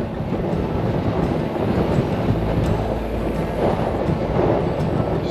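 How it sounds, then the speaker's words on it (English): Strong headwind buffets the microphone of a gravel bike riding in Kansas, making a loud, constant low rumble with gusty surges and no talking. "Straight into the headwind at the moment."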